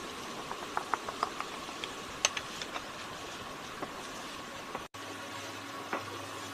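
Soya chunks fry in a pan for kachori filling with a soft, faint sizzle, dotted with light clicks and pops and a brief stirring scrape, no voices.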